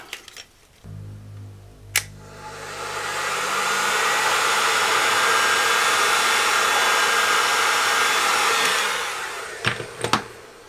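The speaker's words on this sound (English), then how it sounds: "I think I'll get my heat gun out" A heat gun shrinks sleeving during a Quad II power amplifier refurbishment: a steady, loud blowing hiss runs for about seven seconds, framed by a few sharp clicks from the switch and handling.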